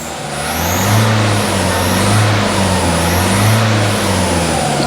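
A loud engine revs up and down in a steady cycle after a lazy start on a weak battery, its pitch rising and falling repeatedly close by, with no one speaking.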